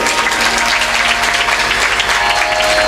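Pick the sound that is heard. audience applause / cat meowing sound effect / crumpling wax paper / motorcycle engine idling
audience applause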